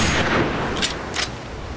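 Two sharp gunshots at a shooting range in Hunting Simulator, spaced a fraction of a second apart over a low steady background.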